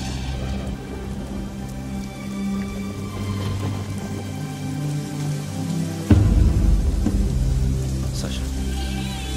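Steady rain patters on surfaces throughout, with a low rumble and a louder burst of heavier rain or thunder partway through, while background music and faint voices sit underneath.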